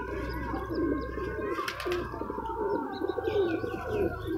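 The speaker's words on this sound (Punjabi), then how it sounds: "ਇਹ ਕਬੂਤਰੀ ਹੈ ਲਾਲ ਚੀਨੀ ਕਬੂਤਰੀ ਹੈ ਜੀ" A red Chinese pigeon hen and other racing pigeons coo close by, soft rolling coos repeating over a low background hum, with a brief sharper burst partway through.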